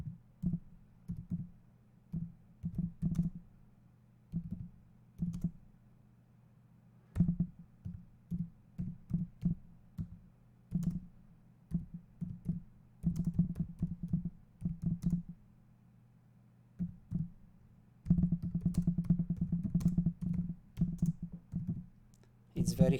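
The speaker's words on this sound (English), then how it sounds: "It's very hard to type and speak in the same way, in the same time" Keyboard keys clicking in irregular bursts of typing, close and fairly quiet, with a steady low hum underneath and some pauses between runs of keystrokes.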